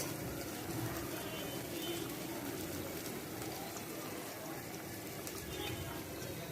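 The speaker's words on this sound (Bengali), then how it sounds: "জল ফুটে গেছে" Water at a rolling boil in a cooking pot for a raw mango chutney, a steady dense bubbling hiss that holds evenly throughout with no talk over it.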